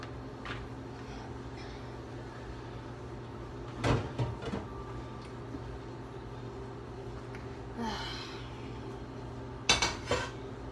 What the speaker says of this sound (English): Now I gotta do the dishes.